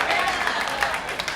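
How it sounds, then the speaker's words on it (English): Comedy show audience applauding, a short burst of dense, scattered hand claps filling the room. "Everybody who's clapping is clapping because they survived that shit."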